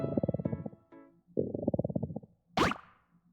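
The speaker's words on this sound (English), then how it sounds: "You hear her stomach growling?" A long, gurgling stomach growl from hunger in the video game Stella Sora, coming in two rumbling bursts with a brief higher squeak and a soft bloop at the end, close and clear with no talking.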